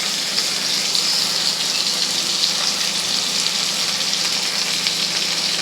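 Onion, tomato and ginger-garlic paste fry in a pan for a Bengali shankar fish curry, giving a steady, close, even sizzle that holds at the same level throughout with no voices.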